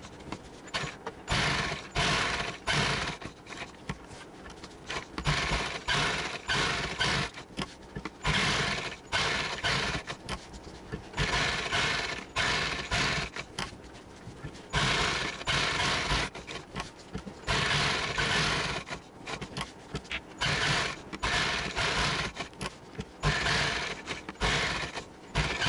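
A sewing machine stitches a designer sleeve in close, rapid mechanical runs, each burst lasting a second or two and separated by short pauses.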